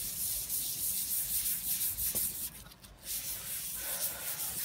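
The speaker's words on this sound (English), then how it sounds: "Now, how I'm sanding this" Hand sanding with cheap 800 grit sandpaper pressed under a flat palm, a steady hissing rub of close, continuous back-and-forth strokes with a brief break partway through.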